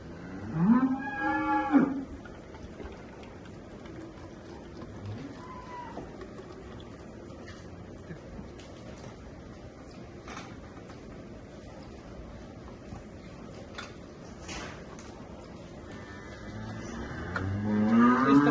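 Dairy cows on a Punjab dairy farm moo loudly and close by, one long call at the start and another near the end, with a steady low farmyard rumble in between and no talking.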